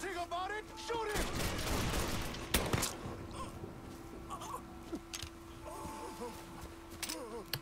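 Gunfire from the video game Mafia III: a burst of rapid shots around the middle, then scattered single cracks amid creaks and game effects, with someone talking over it.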